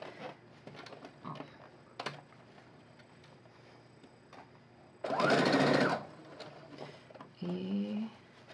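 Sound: sewing machine stitching a straight seam

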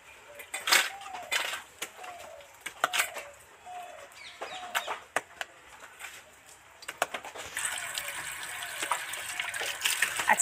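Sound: water pouring out while washing crabs

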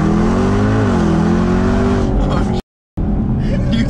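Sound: sports car engine revving

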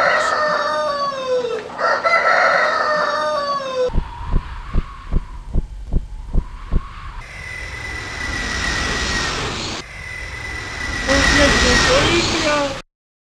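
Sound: rooster crowing in an Aesop's fable cartoon

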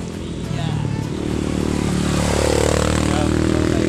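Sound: motorcycles jumping on mountain trail

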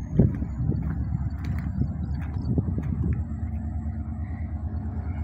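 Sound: HGMU 30 82-series diesel locomotive hauling empty coal freight train

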